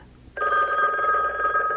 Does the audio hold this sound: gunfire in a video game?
no